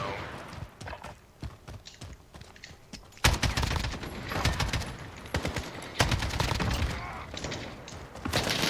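Shotgun fire in a first-person shooter video game: a dense volley of loud, sharp blasts begins partway through and keeps going in quick, irregular bursts close up, after a quieter stretch of softer game noise.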